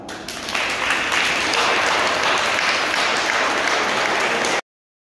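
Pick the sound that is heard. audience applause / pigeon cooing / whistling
audience applause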